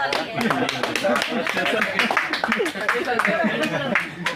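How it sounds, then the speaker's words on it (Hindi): Audience clapping at the closing day of an organic farming training: a burst of hand claps mixed with people talking loudly nearby. "ताली है।"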